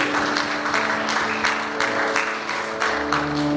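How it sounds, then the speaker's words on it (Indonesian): Guests at a Batak church wedding give a round of applause, steady close clapping throughout the short stretch with a faint background tone. "Kita beri tepuk tangan dulu."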